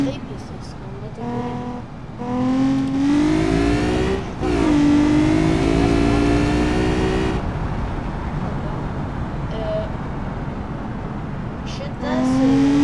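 A second car engine revved repeatedly, its pitch sweeping up and down in rising whines between pauses, with a person talking over the engine at points.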